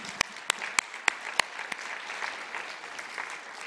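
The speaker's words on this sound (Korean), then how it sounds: "우리 큰 박수 한번 하겠습니다." A church congregation applauds children at a Lunar New Year thanksgiving service, opening with a few sharp, evenly spaced claps before spreading into a steady, moderate round of clapping.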